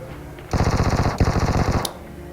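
A SCAR-L assault rifle fires two rapid full-auto bursts during a ranked lobby match in a mobile battle-royale shooter. The shots are loud and close, with a brief pause between bursts.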